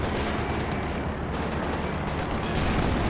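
A Panzer IV tank fires its main gun in Company of Heroes 2 amid dense battle noise, with loud bursts of gunfire and explosions layered throughout a continuous roar of combat.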